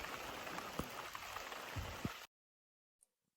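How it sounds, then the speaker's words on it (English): Rain falls steadily in remote Alaska as a dense hiss with a few louder drips, then cuts off abruptly to near silence with one faint tap. "it was still raining pretty good"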